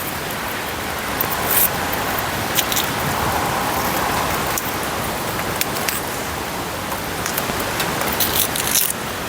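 Rain falls steadily and loudly, a dense continuous hiss with scattered sharper drop ticks throughout and no voices.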